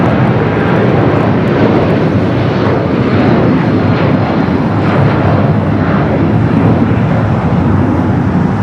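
United Boeing 757-200 taking off from Los Angeles airport, bound for Newark: a loud, continuous, rumbling jet roar that holds steady throughout, dense and unbroken, with no voices.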